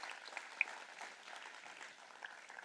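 Audience applause in a lecture hall as a speaker is welcomed on stage, a steady faint patter of clapping hands lasting a few seconds with no voices.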